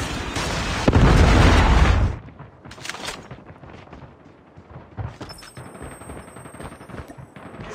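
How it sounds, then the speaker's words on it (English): Massive missile explosions from a Predator missile strike in the video game Call of Duty: a deep, loud broadband blast that holds for about a second, then fades into rumbling debris and scattered smaller bursts. "Predator missile inbound."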